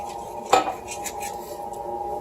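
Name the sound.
sauce being stirred in a pan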